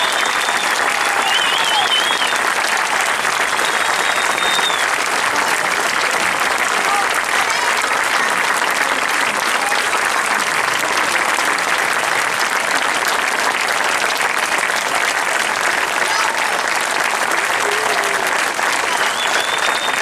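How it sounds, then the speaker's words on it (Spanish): An audience claps steadily and densely after a brass band's muiñeira performance at an evening concert in Galicia, sustained applause filling the whole stretch without pause. "Un aplauso para los dos maestros, Juan y Antonio Seixas."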